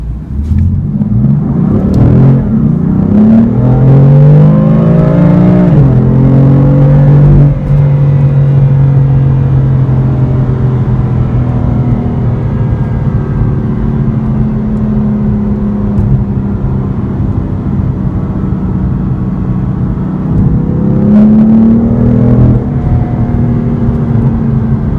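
A 2015 BMW M4 Coupe pulls away from a red light, its engine note climbing through a rising rev sweep, a gear change near five seconds, then steady cruising rumble before another brief surge near the end, loud and close with no talk.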